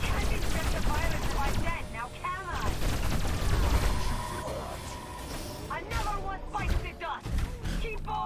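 Rapid gunfire and chaotic alien combat effects from Destroy All Humans 2 Reprobed, dense repeated shots layered with whooshing game sounds, loud and continuous, with a voice speaking in the mix.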